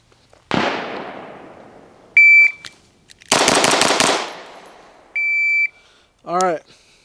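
Shots from a Bul Armory EDC Pro pistol on a range, with a shot timer's electronic beep. A loud, sharp report and its echo are followed by a rapid string of shots, several tones and a spoken voice.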